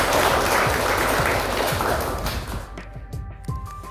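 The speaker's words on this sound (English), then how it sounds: "clap your hand all together" A group claps together in a classroom lesson, a loud, dense patter of many hands that thins out and fades toward the end, leaving a few scattered claps.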